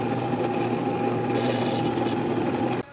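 A drill spins a 3/8 inch Forstner bit into a small wooden crawdad fishing lure, giving a steady, loud, continuous grinding whir that cuts off abruptly near the end.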